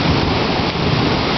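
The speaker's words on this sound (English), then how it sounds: "It's raining hard." Heavy rain pours steadily, a dense unbroken hiss with a low rumbling undertone and no voices.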